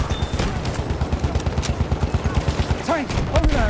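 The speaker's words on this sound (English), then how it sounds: "Machine gun!" Rapid machine gun fire in the video game Battlefield 1, with loud, close bursts in a fast regular rhythm and shouted voices near the end.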